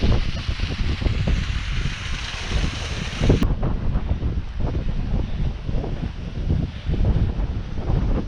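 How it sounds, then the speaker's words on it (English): Hull Pot's underground waterfall in full flow, a loud constant rushing roar of water heard outdoors on the fell, mixed with gusty wind buffeting the microphone. "There's the underground waterfall in full flow."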